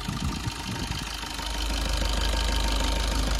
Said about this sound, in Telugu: ఇంజన్ బీటింగ్ చూద్దాం.